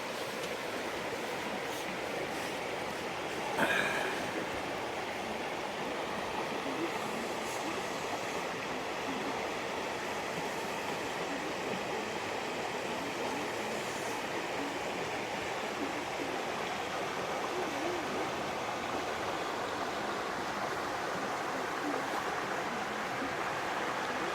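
Soft, continuous wash of small waves lapping on a little sandy beach with underwater rock formations, a faint steady rush throughout with one brief louder splash early on, distant and calm, no talking.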